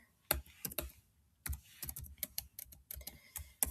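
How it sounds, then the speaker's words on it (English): Typing on a computer keyboard, with quick irregular clusters of soft, close key clicks separated by brief pauses, and no voices. "So I'll just type in what it would look like."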